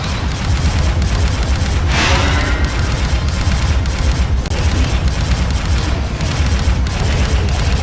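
Repeated bombardment explosions and gunfire roll through a strategy battle in the video game Dragon Commander, a dense continuous barrage of booms and crackling blasts with no talking.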